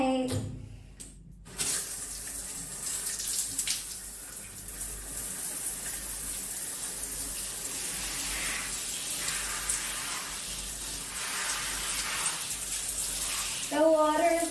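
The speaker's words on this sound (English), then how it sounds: "we're going to do a shower test." Shower water running over a shirt in a rain test: a steady, bright hiss of spray that starts after a brief pause near the beginning and continues loudly throughout, splashing a little more near the end.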